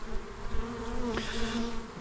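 Honey bees buzz steadily on a brood comb inside a small mating box, a close, even drone with a faint higher whine passing through midway.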